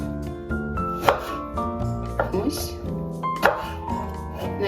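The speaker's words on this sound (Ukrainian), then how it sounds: "Для початку нам потрібно яблука нарізати дрібно на кубики." A knife chops rhythmically on a cutting board, cutting apples into small cubes with quick, close taps, while a voice talks and music plays underneath.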